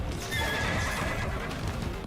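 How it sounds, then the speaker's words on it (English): A horse-like mutant creature in the video game Stellar Blade makes neighing, whinnying cries with clip-clop hoof sounds, loud and close over a dense game background, with no talk. "It was making horsey noises."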